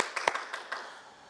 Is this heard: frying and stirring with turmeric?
no